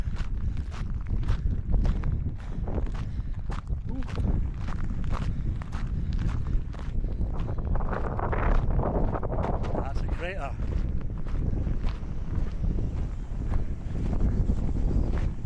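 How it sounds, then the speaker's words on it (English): Wind rumbles against the microphone throughout while running footsteps crunch in a steady rhythm on volcanic terrain in Fuerteventura, and a person says a few words partway through. "It's a bit windy."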